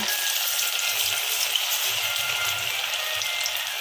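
Soya bean pakoda fritters frying in hot oil, giving a steady, dense sizzle that stays loud and close throughout with no speech.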